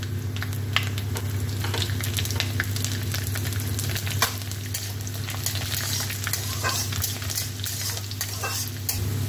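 Chopped garlic sizzles steadily in hot oil with a bed of spices just added, a close, continuous frying hiss with occasional crackles and stirring clatter, no voices.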